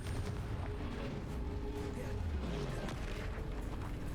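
Confringo spell blasts in Hogwarts Legacy combat: a continuous roar of booming explosions and rumbling magical impacts, dense and loud throughout with no clear gaps.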